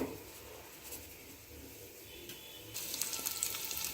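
Mustard seeds, chana dal and asafoetida hit hot oil. A faint hiss swells into a louder, crackling sizzle partway through and keeps popping to the end.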